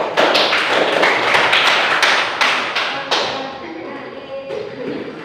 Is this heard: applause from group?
yes